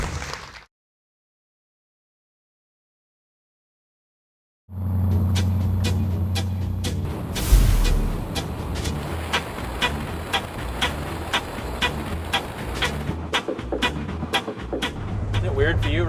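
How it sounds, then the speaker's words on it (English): Restored 1948 Ford F2 truck on a test drive, heard from inside the cab: after a brief sound, a few seconds of silence, then a steady low engine rumble with road noise and rattles, a loud thump partway through. "Tim and Ian and their bearded buddy test drive the 48"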